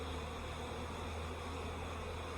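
Honeybees droning steadily at a hive during a beekeeper's inspection of a colony with many drones, a dense, continuous low hum that stays even and close throughout with no talking.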